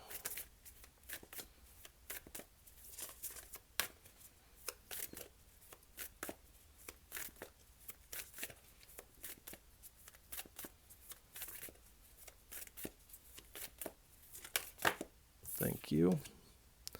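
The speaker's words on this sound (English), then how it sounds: "I may be shuffling the cards" Tarot oracle cards from a Yogic Path deck are shuffled by hand in a steady run of soft, close riffling taps that continue without pause, with a few sharper slaps near the end.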